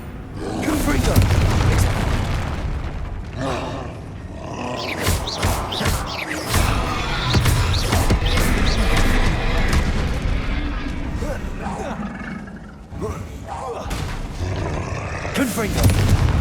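Confringo fire spells going off one after another in Hogwarts Legacy, heavy booming blasts and rumbling roars over sustained loud combat noise, with a voice calling out spell names between the explosions.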